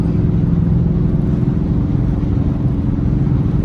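A straight-piped Dodge R/T car engine drones loud and steady while driving in traffic, a deep continuous rumble with slight rises in revs throughout.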